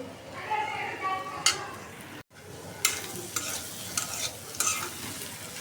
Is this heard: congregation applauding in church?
no